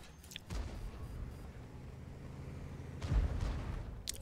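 A tank gun fires in World of Tanks, a booming shot followed by a second heavy blast about three seconds later, both set over a steady low rumble of game ambience.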